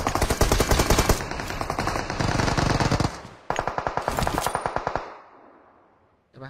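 Rapid automatic gunfire in a desert-themed shooter video game, long loud bursts of evenly spaced shots, a brief gap, then another burst that cuts off into near silence.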